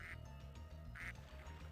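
Two short, nasal quacks from a duck squeaky toy in the Spyro 2: Ripto's Rage video game, heard over a low, steady game music background, faint overall.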